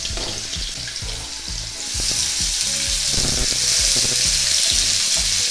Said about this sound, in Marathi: आता तेल थोडंसं गरम झाल्यानंतर ना आपण त्यात ही कांद्याची पेस्ट घालून घेऊया।